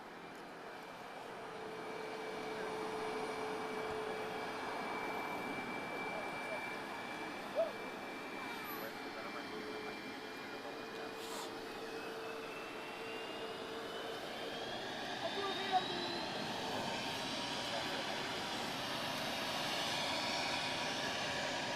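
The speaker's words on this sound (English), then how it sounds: "737 MAX 8-200 high-density model from Ryanair, operated by Malta Air. She's off to Manchester" A Ryanair Boeing 737 MAX 8-200 operated by Malta Air at Lisbon Airport, a distant, steady jet engine roar with a slowly rising whine that swells gradually, over faint background noise.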